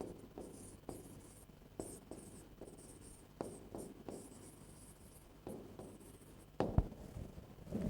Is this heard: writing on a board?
yes